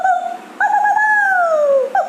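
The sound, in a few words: dog barking or howling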